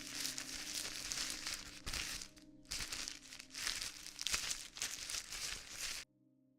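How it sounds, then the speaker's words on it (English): Sustained crinkling and rustling of plastic, loud and close, with brief pauses between bursts before stopping abruptly. "a sudden rustling against plastic sent a jolt of fear through me"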